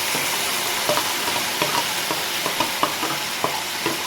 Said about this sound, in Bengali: আমি এই তরকারিটা ঢেলে দেবো এর মধ্যে